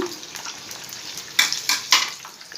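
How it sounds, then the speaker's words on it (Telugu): Mirchi bajji, gram-flour-battered chili fritters, frying in hot oil: a soft, steady sizzle with a few brighter crackling bursts as they are turned, close and fairly quiet, with no talking. "ఈ గుంట తిప్పుకుంటూ ఈ విధంగా వేయించుకోవాలి."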